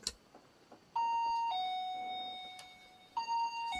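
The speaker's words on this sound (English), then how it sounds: "create an audio alarm like this." A laser tripwire alarm chimes in two-tone electronic ding-dong notes, clear and close, with a pause before the tones repeat.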